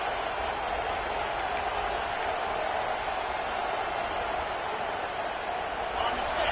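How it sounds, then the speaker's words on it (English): A packed stadium crowd roars throughout a college football game between the Tigers and Seminoles, a steady, dense wall of cheering with no lulls, while a commentator talks over it. "This crowd, full throat, splitting the eardrums"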